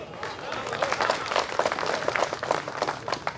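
An audience at an evening memorial event for martyrs claps in a sustained round of applause, with many overlapping hand claps rising and falling. Scattered voices are faintly audible underneath.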